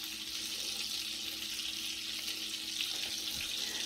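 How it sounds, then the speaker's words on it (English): Meatballs fry in oil in a frying pan with a steady, faint sizzle throughout and no talking. "We're actually going to turn off our oil and take our last 4 meatballs out of the frying pan."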